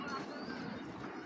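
High flyer Giribaz pigeons coo softly and briefly, faint against a quiet background hiss.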